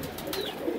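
Pigeons or doves cooing softly among a flock of birds, a steady low murmur of calls at moderate distance with no talking.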